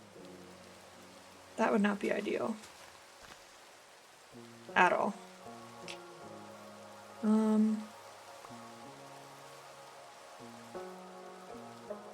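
Soft steady rain in Minecraft falling as a faint hiss under calm background music, while a player talks in short bursts over it.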